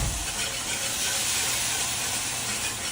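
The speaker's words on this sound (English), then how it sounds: "I'm adding now the stock to the roux. And then I'm going to start whisking this in a little bit at a time" Stock poured into a roux for a seafood stew with potatoes, giving a steady, loud hissing sizzle from the hot pan that holds evenly across the whole moment with no talking.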